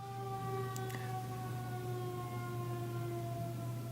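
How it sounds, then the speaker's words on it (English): Emergency siren wailing steadily at a distance, a sustained tone holding through the whole stretch with no talking over it. "I hear sirens"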